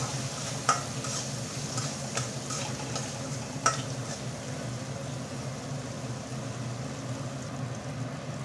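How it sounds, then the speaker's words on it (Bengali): Spice paste with cumin powder fries and is stirred in a pan, giving a steady close sizzle with a few sharp spoon clicks against the pan. "দিয়ে দেবো জিরের গুঁড়ি ভালোভাবে মশলাটা কষিয়ে নেব"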